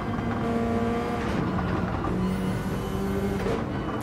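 A Subaru BRZ race car in Gran Turismo 7 on the Dragon Trail Gardens circuit, its engine droning loud and continuous with tones that climb as it accelerates, heard alone.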